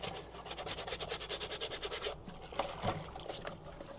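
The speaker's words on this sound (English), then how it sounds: "I just scrub it." A stained old Tilley wide-brim hat is scrubbed vigorously by hand with soap, a fast, steady rhythmic rubbing and sloshing close by, easing into looser wet scrubbing with small splashes.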